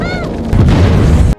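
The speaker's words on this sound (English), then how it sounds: "the German tanks finally rotate their cannons and unleash a fierce bombardment on the building" German tanks firing cannon in a fierce night bombardment of a building: dense, loud booming blasts rumble continuously for over a second before cutting off abruptly, a fading tonal whine audible at the start.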